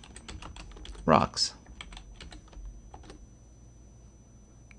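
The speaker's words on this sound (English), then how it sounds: "So let's just say we want to type in Captivate" Rapid clicking keystrokes on a computer keyboard, close and fairly quiet, with a short spoken word midway and typing continuing after.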